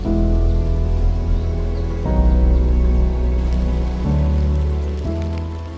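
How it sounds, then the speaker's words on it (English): Heavy rain pouring steadily onto a surface, a dense continuous wash of sound with a deep low rumble beneath it. "a sudden and heavy downpour catches us completely off guard"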